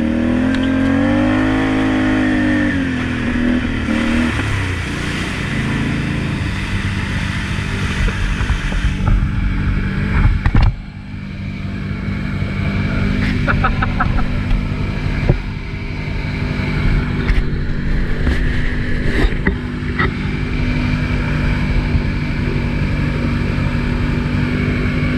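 A Can-Am off-road vehicle engine churns through a swamp, loud and close, with pitch sweeps as it revs and bogs down, steady mechanical drone throughout and brief clanks near the middle.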